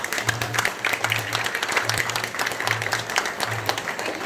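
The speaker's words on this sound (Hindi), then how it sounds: "एक बार सासू माई के लिए जोरदार ताली" An audience gives loud applause for a mother-in-law, a dense crackle of many hands clapping close by, with a low humming tone pulsing beneath it at intervals.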